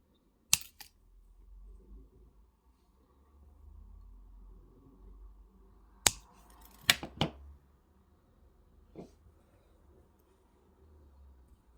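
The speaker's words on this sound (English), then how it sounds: "these two wires I'm going to cut and curl" Jewelry wire for wire-wrapped earrings is snipped with cutters in a few sharp, isolated clicks, one early and a cluster of two or three several seconds later, close and crisp over a quiet room hum.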